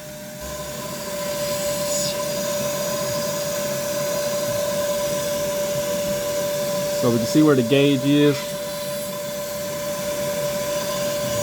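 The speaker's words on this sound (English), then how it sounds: "It ain't much, but it's a vacuum cleaner." A steady vacuum cleaner motor drone with a constant whine runs throughout, while a person speaks briefly over it partway through.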